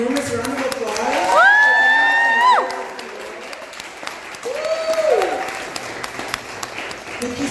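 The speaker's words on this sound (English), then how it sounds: "Can we get another ginormous round of applause?" A crowd at an outdoor flea market event breaks into loud applause and cheering, with high whoops and shouts rising over the clapping before it thins to scattered claps.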